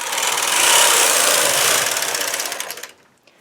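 A knitting machine carriage pulls steadily across a heavy-yarn afghan throw in one long, loud, close whirring pass of almost three seconds, then stops into near silence.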